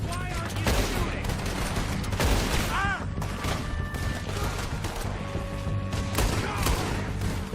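Heavy gunfire in the video game Red Dead Redemption 2, a dense, continuous fusillade of loud shots and booms throughout, with brief whistling ricochets.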